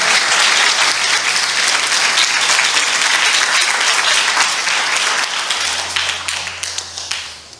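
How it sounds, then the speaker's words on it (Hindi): A church congregation claps loudly together during a sermon, dense sustained applause filling the room before thinning into scattered, separate claps at the end. "आइए हम इस वचन के लिए ताली बजाएंगे जोर से।"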